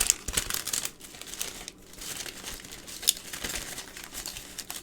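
Tissue paper crinkles and rustles while being handled during card making, with soft irregular crackles and a few sharper crunches, close and fairly quiet.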